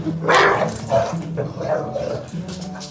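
A dog barks and yips aggressively in a few short bursts close by, mixed with people talking.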